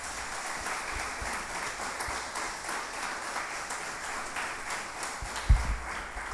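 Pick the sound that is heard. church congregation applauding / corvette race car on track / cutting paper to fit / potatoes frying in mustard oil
church congregation applauding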